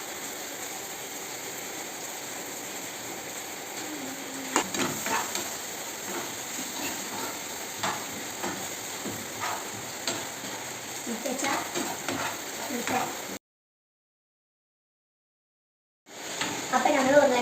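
Potatoes frying with masala in a pan: a steady close sizzle broken by scraping stir strokes, cutting out briefly to silence before the frying returns.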